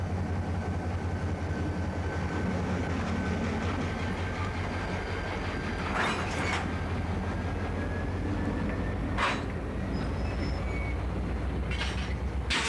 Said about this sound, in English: the train up from Emmett arrives from the south, pulling empties